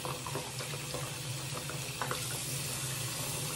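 Water running steadily from a sink tap while hands are washed, a continuous close hiss and splash that stays even throughout.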